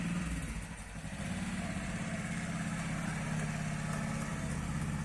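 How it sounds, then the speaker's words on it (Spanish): A motorcycle engine runs steadily on a street during a night patrol round, a loud, continuous mid-pitched drone that barely dips near the start and holds without a break. "Del otra moto, del otro motociclista. Que seguramente va en la otra calle."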